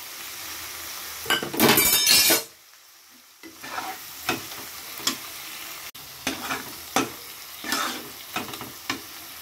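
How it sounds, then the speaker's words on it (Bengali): Fried prawns are tipped into spice paste frying in oil for Bengali dal chingri, with a loud burst of sizzling and clinking at first, then a quieter steady fry punctuated by scraping stirs, close by and without talk. "মশলাটা ভালোভাবে কষানো হয়ে গেছে, এবারে তেল ছেড়ে দিচ্ছে। দিয়ে দিচ্ছি ভেজে রাখা চিংড়ি মাছ।"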